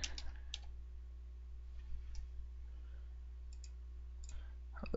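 Keys tapped on a computer keyboard while a router command is entered, heard as sparse, quiet clicks in short bursts over a low steady hum.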